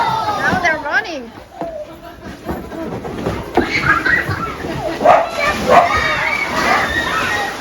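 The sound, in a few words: dogs barking while herding cattle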